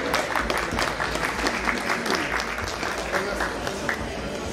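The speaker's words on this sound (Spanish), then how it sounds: "Segundo lugar, felicidades, un aplauso grande." Audience applause for the second-place winner at a Hot Wheels collectors' contest: dense, steady clapping from a crowd that fills the whole stretch at an even level.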